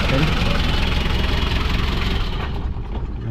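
Hyundai H-100 engine idling with the valve cover removed, the rocker arms exposed and tapping; a loud, close, rough mechanical rumble with rapid ticking, steady throughout before easing slightly at the end.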